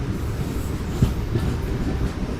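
Train pulling out of Basampalli railway station on a trip from Anantapur to KSR Bengaluru, a loud steady low rumble of the moving carriages with faint rattles and a couple of soft knocks.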